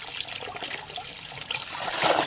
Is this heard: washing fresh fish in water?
yes